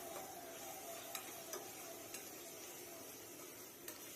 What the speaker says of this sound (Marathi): आपण वाटणसुद्धा आता परतून घेऊया अगदी दोन मिनिट परतून घेऊया